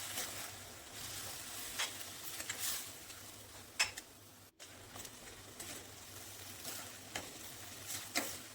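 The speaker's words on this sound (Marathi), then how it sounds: "आता तांदूळ आणि हे परतलेलं बीट, कांदा छान असं मिक्स करून घ्यायचं आहे." A spoon stirs rice with sautéed beetroot and onion in a pan, giving soft scraping and faint sizzling, with occasional light clicks against the pan, quiet and steady throughout.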